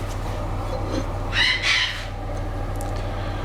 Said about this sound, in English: apologies for the noisy parrot in the background